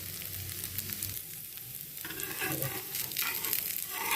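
A ghavan, a thin rice crepe, sizzles steadily on a hot pan as it fries, with a continuous crackling hiss and a few scraping stirs partway through.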